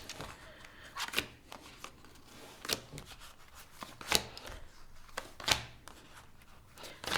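A deck of tarot cards shuffled and pulled at close range, with a series of sharp riffling bursts and soft slides spaced a second or so apart against a quiet room.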